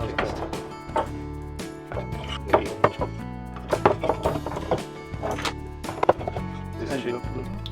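Glass spice jars are set back onto a spice rack in a narrowboat kitchen, giving a series of irregular close clinks and knocks. A person talks over them throughout.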